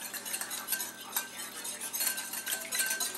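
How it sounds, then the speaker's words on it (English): A whisk working Alfredo sauce in a pan, a quick, steady scraping and light clinking against the metal at close range, continuous for a few seconds with no talking. "So you whisk that in."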